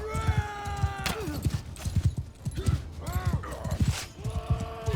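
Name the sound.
horses galloping in the video game Mount and Blade II: Bannerlord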